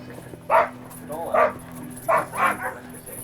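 A sled dog born in Whitehorse, Yukon, gives three or four short, close barks and yips spaced over a few seconds, over a low steady background hum.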